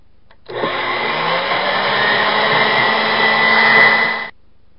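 A metal workpiece being cut to final length on a milling machine, a steady loud whirring machining drone that starts abruptly, holds evenly for nearly four seconds, then stops, with no talk.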